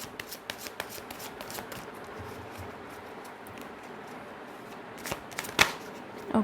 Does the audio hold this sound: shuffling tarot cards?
yes